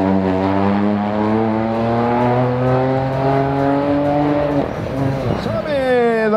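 A Peugeot rally car driven by Jan Solans pulls away at the 2018 RallyRACC Catalunya-Costa Daurada, a loud, close, steady engine drone that dips briefly and then revs back up.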